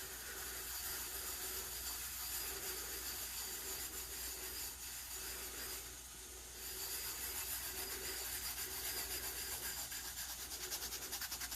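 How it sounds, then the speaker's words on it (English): Faint, repeated rubbing strokes come from burnishing a rose tattoo transfer onto a tumbler. The soft scraping swishes hold a steady rhythm, pause briefly, then continue, and no one speaks. "I'm just going to rub a small section to start, overlapping that center section."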